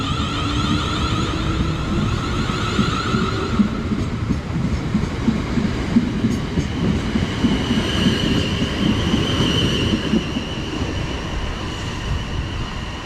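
Two coupled Class 450 electric trains depart Ashford station toward Windsor, producing a loud, steady rolling roar with rhythmic wheel clatter and a rising whine from the traction motors as they pull away close by.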